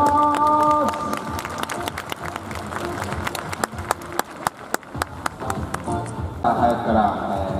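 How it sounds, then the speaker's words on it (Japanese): Audience applause at a Tokyo Yakult Swallows fan appreciation day event, a steady wash of clapping from a crowd with scattered sharper claps, under a continuous bed of crowd noise and an announcer's voice. "皆さん大きな拍手をお願いします。"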